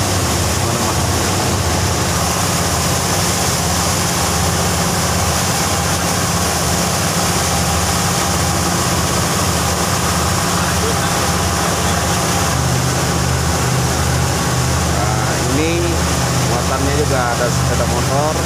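The engine of the Barokah, a river taxi boat on the Mahakam River, drones loud and steady throughout with a broadband rushing of water and wind. A voice speaks over it in places.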